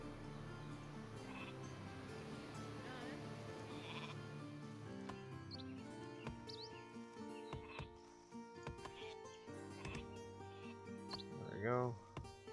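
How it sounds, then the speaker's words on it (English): Sheep bleat a few times in the Northgard video game, short wavering cries over layered game music with chimes and plucked notes, with a louder bleat near the end. "Move this sheep over here. We'll be able to load both sheep up into the sheepfold"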